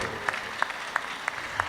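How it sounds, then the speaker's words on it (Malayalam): Applause at an interschool science exhibition, heard as a soft, even patter of clapping with a few sharper claps standing out at roughly regular intervals. "അദ്ദേഹത്തിന് ഒരു വലിയ കൈയടി എഴുന്നേറ്റ് നിന്ന് കുഞ്ഞുങ്ങൾ കൊടുക്കുന്നത് യാതൊരു കുഴപ്പമില്ല"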